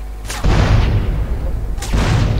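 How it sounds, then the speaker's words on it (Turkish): Explosions in the video game GTA San Andreas: two loud, deep booms land about a second and a half apart, each followed by a sustained rumbling roar. "Bir şey patlıyor."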